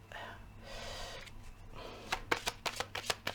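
A deck of Humanis oracle cards being shuffled by hand, starting with soft breathy sounds and a voice, then a close, quick run of crisp riffling snaps in the final second.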